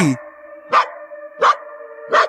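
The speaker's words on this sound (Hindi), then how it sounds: "एंड डॉग्स भी बार्क कर रहे हैं, मतलब भौंक रहे हैं।" Dogs bark outdoors at night, three sharp, fairly loud barks spaced about evenly over a steady background tone, with no voices over them.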